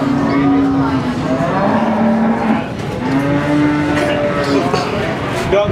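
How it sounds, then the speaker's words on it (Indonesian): Cattle, including PO breed stock, low and moo repeatedly at the Imogiri cattle market in Bantul, with long drawn-out calls over a constant bustle of crowd chatter and nearby voices. "Ini sapinya, guys."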